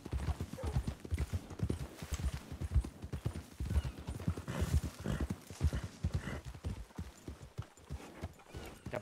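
Horse hooves clip-clop steadily in the video game Red Dead Redemption II, a dense, close rhythmic trotting with occasional snorts and no talk over it.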